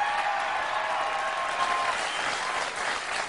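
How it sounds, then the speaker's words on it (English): Studio audience applause on a Fox News talk show, a steady wash of clapping that holds at a fairly loud level throughout with no voices over it. "There was big applause for that."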